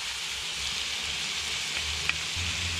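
Garlic sizzles steadily in a hot Dutch oven, a dense even frying hiss with a faint clink of a utensil near the end.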